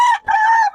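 A single close, loud chicken call in two parts, a short note then a longer drawn-out one, with no other sounds.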